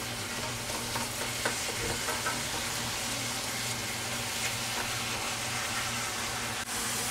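Ground beef and chopped onions sizzle steadily in a hot pan, a dense, continuous frying hiss with occasional soft stirring scrapes, close and even throughout with no voices.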